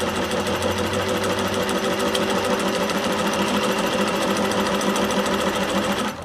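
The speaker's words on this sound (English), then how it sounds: "you can wind the bobbin until it's as full as you'd like it to be" A Singer 604 sewing machine winding its bobbin, a loud, fast, steady mechanical whir and rapid clatter that runs without a break and cuts off abruptly at the end, with no talking.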